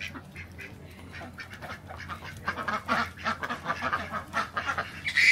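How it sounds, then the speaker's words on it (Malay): Ducks quack and honk repeatedly at close range in a lively, irregular series that grows louder toward the end, with no talking over them. "Inilah bunyi itik."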